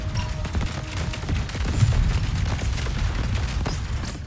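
Missiles firing in the space shooter game Cygni: All Guns Blazing, with a dense run of rapid muffled blasts and rumbling booms that continues throughout, loud and without speech.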